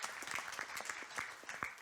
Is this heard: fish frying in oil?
no